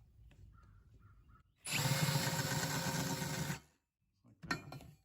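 A power drill fitted with a countersink bit whirs steadily for about two seconds while deburring a hole during a lawn tractor lift frame build, followed by a short second burst; quiet clicks and handling noises surround it.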